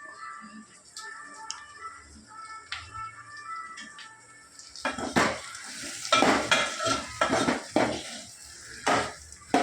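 Gram flour being stirred into salted, churned buttermilk in a metal pot, with a spoon scraping and clinking against the pot in repeated close strokes that grow louder and busier partway through.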